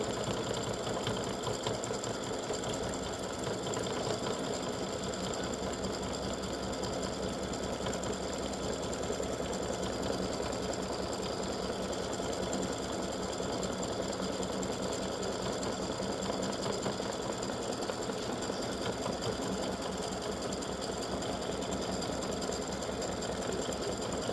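An embroidery machine runs satin stitching around the edges of an Easter egg gnome design, a steady, dense mechanical hum and rapid needle chatter, continuous and close throughout with no pauses.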